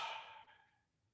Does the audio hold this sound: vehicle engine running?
no